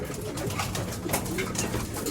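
Pigeons coo softly and repeatedly close by, low throaty calls over a steady background hum.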